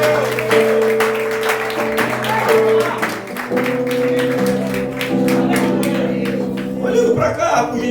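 Church congregation clapping in praise, sharp rapid hand claps over sustained organ or keyboard chords, loud and continuous before the music shifts near the end.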